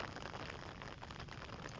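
Rain falls outdoors as a faint, steady wash of patter with no clear individual drops, continuous throughout.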